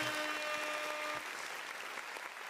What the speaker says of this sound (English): Let's get some applause.